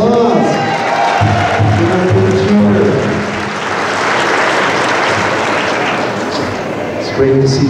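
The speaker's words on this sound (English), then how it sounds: "give her a round of applause." Applause and cheering from a crowd at a Native American Day event at the New Mexico State Legislature, a dense sustained clapping wash with voices mixed in throughout.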